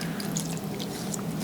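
Hot tap water pouring steadily into a bowl of shredded paper for soaking, a continuous close splashing trickle with faint dripping, no talk.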